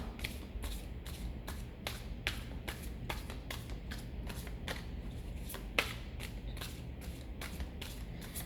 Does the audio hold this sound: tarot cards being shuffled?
yes